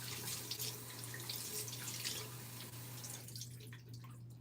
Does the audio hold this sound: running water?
yes